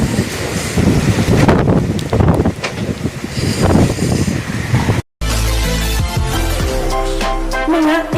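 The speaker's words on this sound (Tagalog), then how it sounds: "Malakas po yung hangin dito." Strong wind from Typhoon Kristine roars and buffets the microphone without letup, loud and close, and cuts off briefly before resuming as a rushing, turbulent blast.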